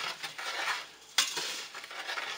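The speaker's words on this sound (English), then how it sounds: "You just gotta keep stirring, stir, stir. Just a continuous stir." A spoon stirs homemade blueberry jam in a pot, scraping and clinking steadily against the metal, with one sharper knock partway through, close and fairly quiet.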